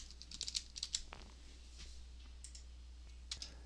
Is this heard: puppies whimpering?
no